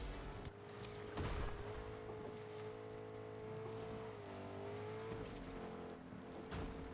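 A truck driving in the Fortnite video game, with a steady engine drone holding one pitch, then dipping and shifting midway, under game noise and the occasional thump.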